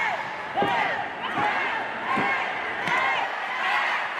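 Wrestling fans cheering at a Continental Championship Wrestling show, a rowdy arena crowd with rising shouts and whoops, punctuated by several loud slams, and with voices heard throughout.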